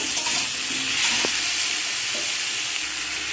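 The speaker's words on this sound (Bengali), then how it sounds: "একটু ভালো করে এরকমভাবে ভেজে নিতে হবে" Raw tomatoes with salt frying in a pan while being stirred, a steady close sizzle running throughout with a faint scrape or two of the spatula.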